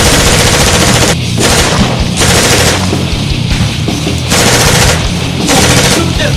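Type 56-1 airsoft electric gun firing in long bursts, a dense continuous chatter that stops briefly several times before resuming, loud and close, mixed with battle sound effects like a war game.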